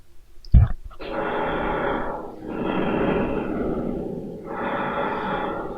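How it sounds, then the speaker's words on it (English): Heavy, rasping breaths in a house at night, slow loud inhales and exhales after a sharp snort-like onset, close and alone. "That heavy breathing happens again during the night."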